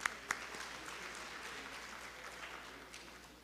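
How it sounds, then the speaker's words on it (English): An audience applauds a guest speaker at a university event, steady clapping from a crowd heard at a moderate distance, with a couple of sharper claps at the start and no talking. "a huge round of applause for her again"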